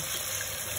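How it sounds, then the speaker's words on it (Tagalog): Water poured into a pan of spare ribs sitting in chicken marinade, a steady close rushing pour with no break for nearly a second. "Saka lagyan ng tubig."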